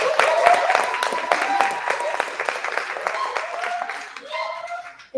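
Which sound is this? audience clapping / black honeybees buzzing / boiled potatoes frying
audience clapping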